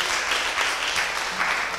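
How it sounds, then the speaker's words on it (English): An audience at a town hall gives a dense, steady round of applause, with many hands clapping continuously at even loudness throughout. "So give them a big round of applause."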